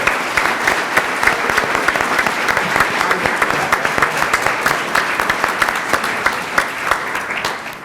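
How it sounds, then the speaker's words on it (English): Steady, dense applause from an audience at a school board of education meeting honoring middle school students, sustained clapping close and loud with little else audible. "A round of applause, please,"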